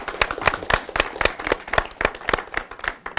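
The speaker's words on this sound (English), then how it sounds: "Let's give Jay a round of applause" A small group at a coffeehouse music performance claps steadily with brisk, even hand claps, close and fairly loud, no voices heard.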